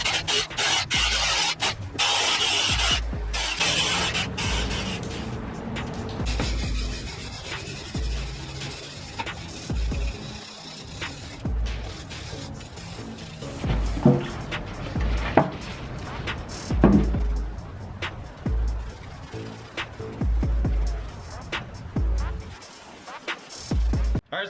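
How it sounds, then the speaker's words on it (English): Paint being stripped from a Ford 8.8 axle tube: close, harsh rasping and grinding runs in rough bursts with short breaks and occasional knocks, steady and fairly loud throughout. "I gotta strip all the paint and everything out of there."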